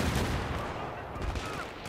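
Battlefield 3 PC gameplay on the Damavand Peak map, with dense continuous gunfire and explosive rumble from a grenade blast filling the whole stretch, loud and unbroken.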